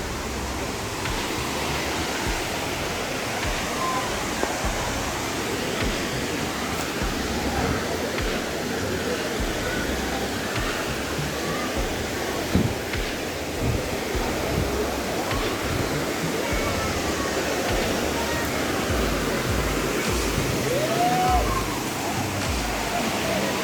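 Kothapalli waterfall at Maredumalli roars as a dense, unbroken wash of falling water, loud and close throughout, with a few faint incidental knocks but no clear speech over it.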